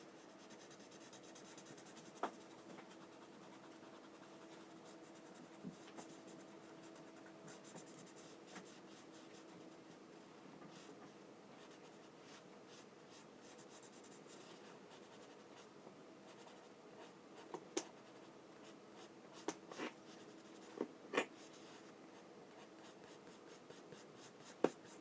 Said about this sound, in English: And I'm very, very lightly smoothing out that pencil.